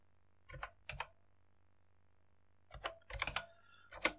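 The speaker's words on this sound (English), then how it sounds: "My typing isn't normally this bad." Keys are tapped on an old Amstrad-era computer keyboard (Mallard BASIC under CP/M) in two hesitant clusters, a pair of clicks, a pause, then a quicker burst of clattering keystrokes, close and crisp in a quiet room.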